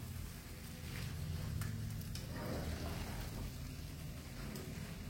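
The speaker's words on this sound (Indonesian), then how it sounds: "Biar minyaknya menggoreng dulu bumbunya" Spice paste for beef lung rendang frying in oil, a soft, steady sizzle that stays quiet and even throughout, with no talk.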